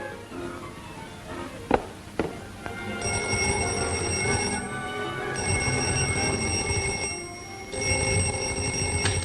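An old 1947-era telephone bell rings in a steady, continuous electric jangle over a low background hum, with a couple of sharp knocks near the start and no voices.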